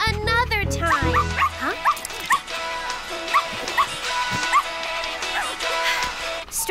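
A cartoon puppy yaps with a string of short, sharp barks and whimpers in an animated children's show, the barks clear and close over light background music.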